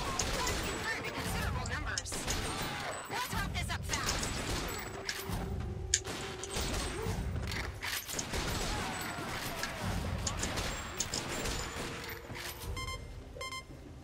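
Arcade gunfire from the video game Time Crisis 5 comes in repeated shots and bursts, mixed with game beeps and effects. Someone talks over the action throughout.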